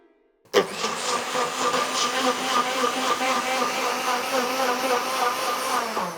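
A kitchen blender whirs into life abruptly after a brief pause and runs steadily at high speed, liquefying pricey Château Mouton Rothschild Bordeaux red wine, loud and close, with a dense whine holding to the end.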